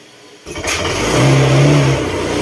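A Honda Click scooter engine, unused for six months, cranks and catches, then settles into a loud, steady idle with a rising rev, close by.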